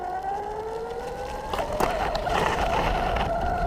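Evolve electric skateboard under max acceleration in fast mode gives a rising motor whine over rolling wheel rumble, the pitch climbing steadily, close and continuous with no speech.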